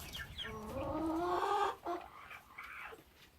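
Chickens cluck in a farmyard coop near ducks, a short run of quiet, close clucks and squawks that rise and then trail off into softer calls.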